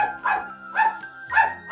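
Several dogs bark loudly and repeatedly at a home dog shelter, three bursts of overlapping barks close by with no talk.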